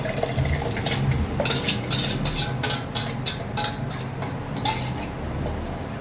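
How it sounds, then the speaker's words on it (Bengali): A spoon stirs sugar into a mixture to dissolve it for mango ice cream, giving repeated scraping and clinking against a bowl in quick irregular bursts over a low steady background hum. "এবার এটা ভালো করে আমি চিনিটা এর সাথে গুলে নেব"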